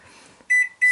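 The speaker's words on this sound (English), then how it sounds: "the watch on the microwave range is resetted, so it's time to" A microwave oven beeps twice in quick succession as its clock is set, short sharp electronic tones, close and loud, following a moment of near silence.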